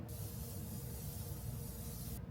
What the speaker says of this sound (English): I'm gonna go in with my setting spray. This is the Milani Make It Last.